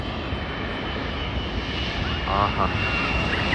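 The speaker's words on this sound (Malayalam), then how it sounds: "ഇതേ വരുന്നു ഗൈസ് നമ്മുടെ ത്രീ എയ്റ്റി വരവുണ്ട്" An Airbus A380 drones steadily in the distance approaching Manchester Airport, its engine rumble holding constant while a voice briefly exclaims over it.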